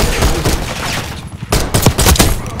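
Pistol gunfire in Black Ops 6 multiplayer, a quick burst of several sharp, loud shots in close succession amid game noise.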